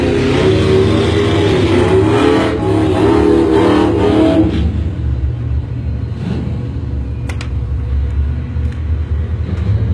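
Chevrolet and Ford drag racing cars launching side by side, a loud heavy rumble and revving roar that fades after a few seconds into a lower distant engine drone.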